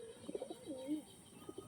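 A tournament racing pigeon gives a faint, brief, throaty coo with a few soft chirps nearby, distant and quiet.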